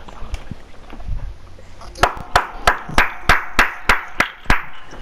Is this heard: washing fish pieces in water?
no